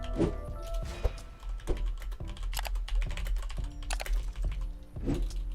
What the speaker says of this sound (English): I was sitting here typing on my computer, so I totally missed the payout.